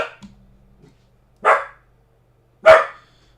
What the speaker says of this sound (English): what are we barking at?